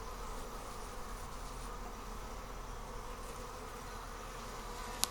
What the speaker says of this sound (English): Bunch of bees crawling around in the box.